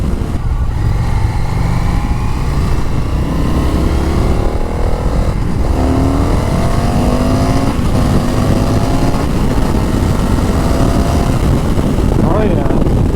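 An Indian FTR 1200 Carbon R motorcycle engine pulls hard under acceleration, its steady roar rising and falling with gear changes beneath constant heavy wind buffeting, with a rider speaking at times.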